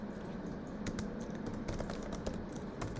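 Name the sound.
typing on a computer keyboard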